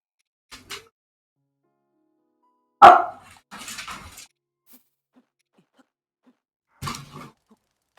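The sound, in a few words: dog barking excitedly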